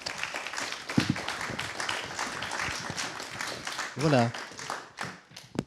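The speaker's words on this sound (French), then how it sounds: "On va les applaudir." Audience at an insurance-industry round table on climate challenges applauds, a scattered clapping texture running under a speaking voice and a brief spoken remark.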